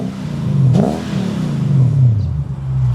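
A V8 engine in a manual Lexus IS300 wagon revs hard, pitch sweeping up and down through a couple of throttle pulls, close and loud with no talking.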